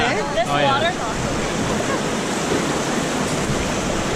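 Whitewater rapids on the Kicking Horse River, heard from a raft, make a steady loud broadband rush of churning water, with voices talking over it in the first second.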